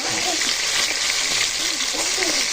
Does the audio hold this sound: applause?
no